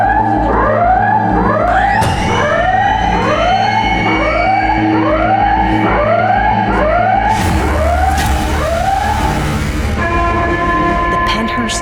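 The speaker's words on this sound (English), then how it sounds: "The atmosphere is heightened by the blaring air raid sirens." Air raid sirens blare loudly in repeating rising and falling wails, cycling steadily for several seconds, then cutting off abruptly into a rushing noise and lingering steady tones.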